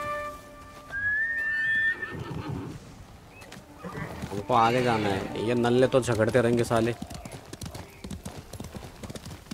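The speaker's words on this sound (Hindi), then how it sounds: "मेरा घोड़ा भी भाग गया आ गया आ गया अरे घोड़े आजा" Hooves clip-clop loudly as a horse runs up in the video game Ghost of Tsushima, with whinnies and a whistle, while someone talks over the gameplay.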